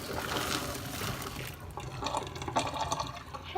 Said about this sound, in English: Pour it on the bottles.